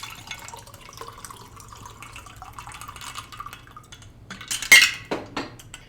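Ice and liquid rattle in a cocktail shaker while an American Sweetheart is mixed with Southern Comfort, dry vermouth and sweet and sour mix; a quiet clinking lead-in builds to a sharp, loud burst of shaking near the end.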